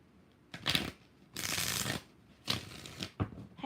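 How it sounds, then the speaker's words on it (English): Several quick bursts of tarot cards being riffled and shuffled up close, each a short papery flutter separated by brief pauses. "2 more shuffles."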